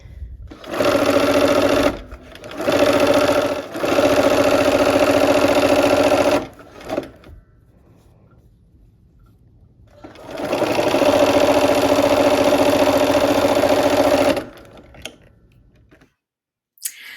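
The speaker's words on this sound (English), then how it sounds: "let's go ahead and sew this last seam of the quilt top" A sewing machine stitches the last seam of a pieced quilt top with gingham and coral borders, running in four loud, steady bursts separated by short pauses and a longer quiet gap.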